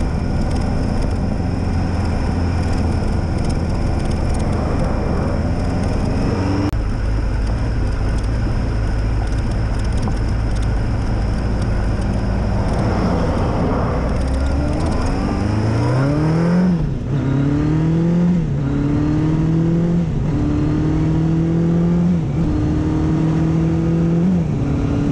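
Kawasaki 1000 GTR motorcycle ridden along an Australian highway: a loud, continuous engine drone heavy with wind roar, holding steady and then rising in pitch through several gear changes as it accelerates.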